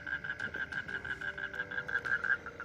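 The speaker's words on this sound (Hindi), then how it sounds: "शायद वो मेंढकों की आवाज़ है" Frogs croak in a rapid, continuous chorus, a pulsing high-pitched trill repeating steadily; fairly quiet and without speech.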